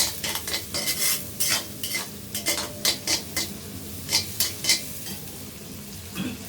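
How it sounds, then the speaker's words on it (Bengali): A spoon stirs vegetables with turmeric and a little chili powder in a pot, cooked without oil: irregular scraping strokes against the metal over a soft sizzle, close by, with no talking. "নেড়ে চেড়ে দিব।"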